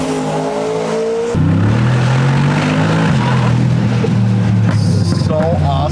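Gintani-tuned G Wagon SUV with over 700 horsepower, its exhaust roaring loud and close as the engine revs and climbs, then easing off into a drawn-out, clean burble; a voice talks over it.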